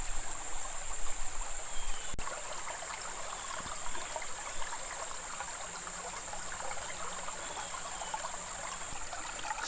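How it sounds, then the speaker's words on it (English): A clear, fast-moving stream on the Current River section of the Ozark Trail runs steadily, a continuous bright trickle and rush of water that stays close and even throughout with no voices. "We fill up this bag from a clear, fast-moving stream like this"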